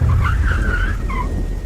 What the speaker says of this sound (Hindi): पर तभी मुझे अपने पीछे गाड़ी के ब्रेक की आवाज़ सुनाई पड़ी।